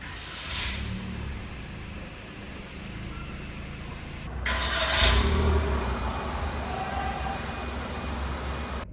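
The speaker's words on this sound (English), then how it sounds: "to start the engine, just put your foot on the brake and push the button to start." A 2024 Toyota Wigo G with push-button start cranks its engine, which catches with a brief swell midway and then settles into a steady, fairly quiet idle heard up close.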